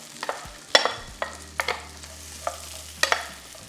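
Corn is stirred into melted butter in a pan, giving a faint sizzle under a few sharp scrapes and clicks of a utensil, close by with no talk.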